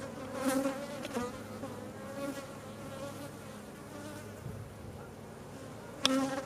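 Honeybees at an open hive being worked for brood frames make a steady, soft, close buzz that holds throughout, with a few brief louder passes as single bees fly near.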